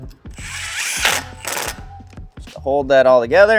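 A power tool drives a small alignment bolt into a new brake rotor on a Cadillac CTS during a brake caliper install, in two short, close whirring bursts while someone talks.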